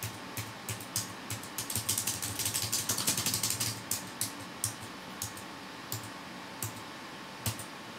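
Computer keyboard keys clicked while sending keystrokes to a microcontroller over UART: close, crisp tapping, sparse at first, then a quick burst of rapid presses before slowing back to scattered single clicks.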